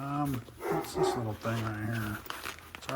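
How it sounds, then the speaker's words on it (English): A pet dog barks excitedly in short, scattered yips while someone talks over it close by, the barks partly buried under his voice. "that's my dog going crazy."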